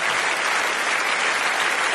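A large audience at a comedy show claps loudly and evenly, the sustained roar of many hands holding steady with no gaps.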